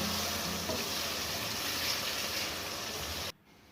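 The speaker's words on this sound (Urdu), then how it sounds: "جیسے کہ آپ دیکھ رہے ہیں چوپ شدہ سے پہلے سبز مرچی ہم نے ایڈ کی ہیں۔ اس کو ہم 2 منٹ کے لیے فرائی کریں گے۔" Green chilies fry in a pan for brinjal bhartha, a steady broadband sizzle and crackle that holds evenly for over three seconds, then cuts off abruptly near the end.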